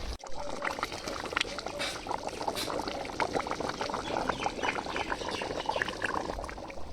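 Water is poured into a pot of meat cooking down in a Bengali home kitchen, giving a steady splashing pour throughout, close and fairly loud.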